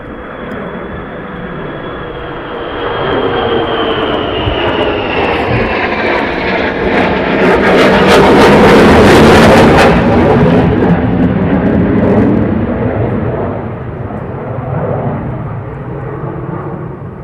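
Fighter jets approaching at RAF Lakenheath, a loud roar that builds from a distant rumble to a powerful peak near the middle, then fades back to a sustained engine drone, with no talk.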